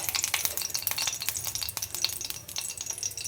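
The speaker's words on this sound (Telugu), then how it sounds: "ఇందులో ముందుగా పచ్చిమిరపకాయలు వేసి వేయించాలి." Green chillies sizzle and crackle in hot oil in a pan for Telugu-style idli pulihora, a dense steady frying hiss with a stirring spoon scraping and clinking close by, no voices.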